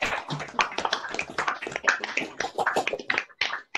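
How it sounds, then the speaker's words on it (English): Audience applause after a talk on calendar customs in word and song, a dense run of hand claps that starts at once, stays fairly loud, and thins briefly near the end. "Can I have a big round of applause for Barry and Jill"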